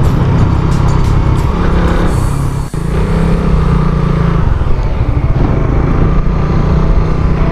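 A vehicle engine pulling hard uphill in 4th gear on climbing roads in DRT, Bulacan, a loud continuous drone close to the microphone with a brief dip partway through.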